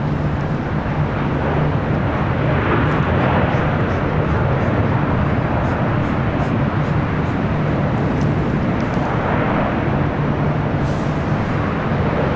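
Alaska Airlines Boeing 737 MAX 9 jet in Orca livery arriving from Seattle at LAX, a steady broadband roar of engine and airflow that holds loud and even throughout with no talk.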